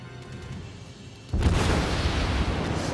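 Ship guns fire in the naval battle game World of Warships, with a sudden heavy boom about a third of the way in that swells into a loud, sustained rumbling roar after quieter background hum.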